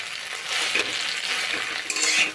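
Egg and okra fry in a hot pan as a spatula stirs them, giving a bright continuous sizzle broken by scraping strokes and a louder burst near the end, close up with no talking.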